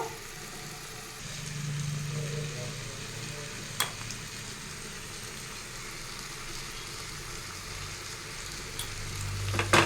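Potatoes fry in a pan for a khichuri meal on a rainy day, a soft steady sizzle with occasional faint clicks of utensils, fairly quiet and low-level.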